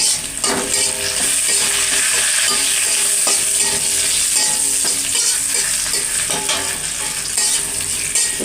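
Onions and bay leaves sizzle loudly in hot oil while being stirred for a fish curry with elephant foot yam, a constant close crackle broken by frequent spatula scrapes and clinks against the pan.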